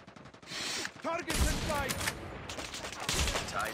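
Rapid automatic gunfire in the mobile shooter COD Mobile comes in dense, loud bursts with brief gaps, mixed with game effects and a voice talking over it.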